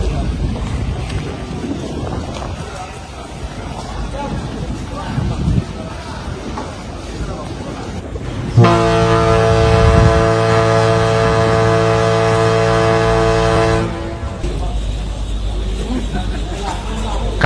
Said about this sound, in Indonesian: Kapal cepat yang kami tumpangi membutuhkan waktu 3 jam untuk sampai di Pulau Lingga.